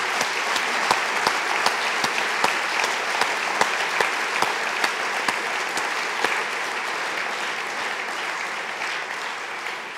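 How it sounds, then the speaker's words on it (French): An audience applauds a lecturer and guest after a talk on randomness, steady dense clapping with sharp individual claps standing out, continuous and fairly close for the whole stretch. "Il faut vous applaudir notre conférencier et notre invité."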